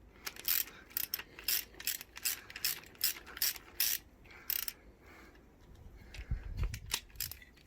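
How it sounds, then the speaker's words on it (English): Hand ratchet loosening engine head bolts during a Volkswagen Polo engine strip-down, a close series of quick rhythmic clicking ratchet strokes in bursts, then quieter handling noises. "I'm going to continue on with the ratchet."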